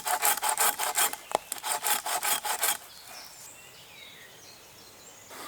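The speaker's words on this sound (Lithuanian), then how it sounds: "Dabar šlifuojam." A wooden bow stave is sanded by hand in a forest: about a dozen quick, even rasping strokes in a steady rhythm, close and loud, then quieter rustling with faint outdoor ambience.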